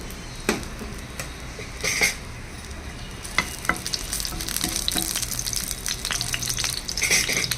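Small ginger pieces fry in hot oil in a pan, giving a steady close sizzle with occasional sharp pops and utensil scrapes throughout.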